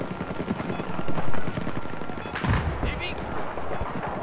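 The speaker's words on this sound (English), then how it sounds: "We've got 3 goons mortaring." Dense Battlefield 4 combat soundscape with mortar fire, thudding blasts and rapid gunfire layered over one another in a continuous loud din, with voices talking over the action.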